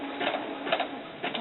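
Sewing machine stitching fabric for a doll sun dress at a 1.8 stitch length, a soft, steady mechanical whir with faint rhythmic pulses, close and fairly quiet.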